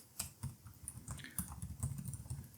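Steady close typing on a computer keyboard while writing LaTeX notes, a dense run of quick key clicks and thocks with no voice.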